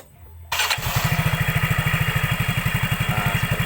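Yamaha Mio J Soul GT scooter after a one-way starter clutch repair, the electric starter clicking in and the engine catching almost at once, then settling into a steady, close, rhythmic idle throb.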